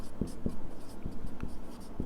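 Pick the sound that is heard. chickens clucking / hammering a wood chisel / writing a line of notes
writing a line of notes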